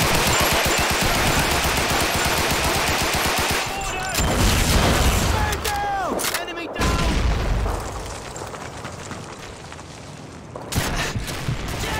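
In Call of Duty 2 with the Back2Fronts mod, on Veteran difficulty in a mission retaking a town, dense machine-gun fire and rifle shots rattle almost nonstop alongside booming blasts. Voices shout over the fighting.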